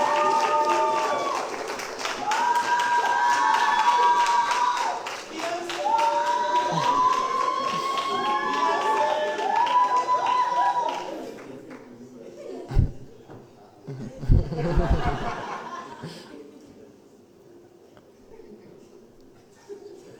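A live debate tournament audience applauds and cheers for the best judge, a dense crowd of clapping and voices for about ten seconds that fades, followed by a few scattered claps and sounds in a quieter room.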